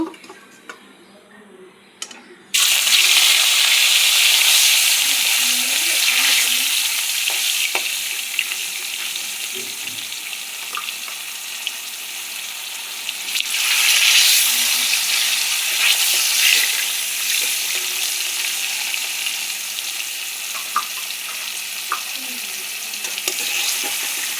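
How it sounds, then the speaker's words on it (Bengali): Fish frying in hot oil with turmeric bursts into a loud, continuous sizzle after a brief quiet start, with crackles and a surge partway through, and no voices. "মাছ ভেজে নেব।"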